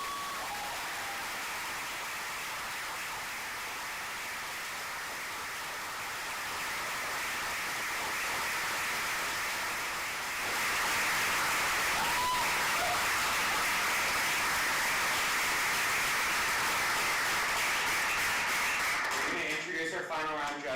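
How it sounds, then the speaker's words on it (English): An audience at a live competition event applauds in a broad, sustained wash of clapping that grows louder partway through and keeps going for many seconds before cutting off. "let's give a round of applause."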